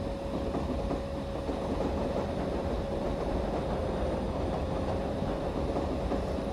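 Karnataka Express train on the Bangalore–New Delhi run, heard as a loud, steady rumble of wheels and carriages rolling along the rails, with a continuous low roar throughout.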